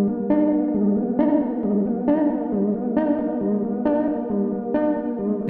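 A Behringer Poly D analog synthesizer playing a repeated chord stab about every 0.9 seconds, with modulation routed to its oscillators giving a thick, chorused, slightly distorted texture.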